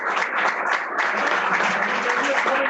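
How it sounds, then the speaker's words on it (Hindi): Audience applause for volunteers at a blood donation felicitation event, a continuous, fairly close round of clapping with no break. "हमारे वॉलंटियर्स के लिए जोरदार ताली"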